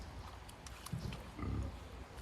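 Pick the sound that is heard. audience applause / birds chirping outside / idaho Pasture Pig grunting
idaho Pasture Pig grunting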